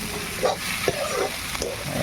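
Pork frying in an iron wok, stirred with a few quick scraping strokes over a continuous close sizzle.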